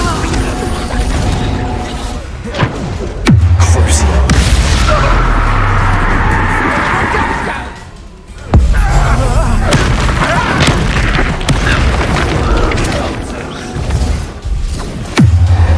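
A Confringo spell explosion in the video game Hogwarts Legacy, heard as loud booming blasts with mechanical clanks over a dense, continuous battle soundscape, with a voice calling out near the start.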